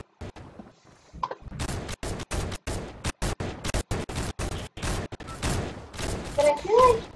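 A thermal weapon firing in Fortnite, a rapid series of sharp, loud, evenly spaced shots with brief silences between them, followed by a louder closing flurry where a voice is also heard.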